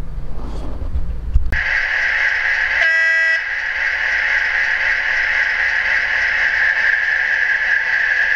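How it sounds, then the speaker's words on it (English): A model railway train running at night on a layout, heard as a sharp click followed by a sustained horn-like tone that holds steadily to the end, with a brief higher whistle partway through. "Let's get to trains at night at Jubilee Road."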